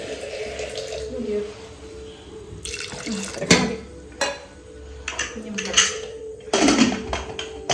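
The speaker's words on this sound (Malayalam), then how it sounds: "നമ്മൾ വെള്ളം ഒഴിക്കാൻ മറന്നിട്ടുണ്ട് അപ്പം അത് ആവശ്യത്തിനുള്ള വെള്ളം വെച്ചു" Water is poured into a cooking pot of potatoes and green gram in a home kitchen, with splashing and running water mixed with clattering pots and utensils, close by, while a person talks.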